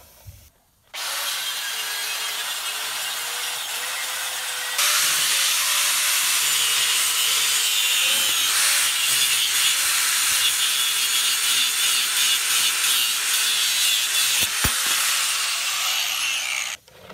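A power saw cuts through a welded hub and axle on a Yamaha Raptor 660 ATV, a steady loud grinding hiss that starts after a short pause, gets louder near five seconds and holds until it stops near the end.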